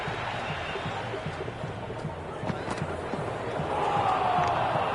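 A stadium crowd in the Cricket 26 video game roars as a steady wash of noise, swelling louder near the end, while a commentator talks over it.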